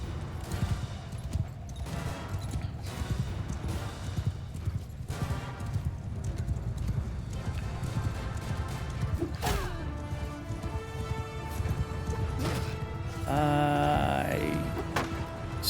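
Horses gallop in the video game Mount & Blade II Bannerlord, a steady dense clip-clop of many hooves running throughout, with sharp clashes and a brief whinny-like tone near the end.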